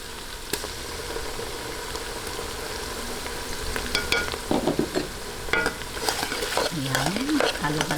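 A spoon stirs milkfish sardines in tomato paste in a frying pan, with scraping and clinking strokes over a soft continuous sizzle, close by, the stirring growing busier toward the end.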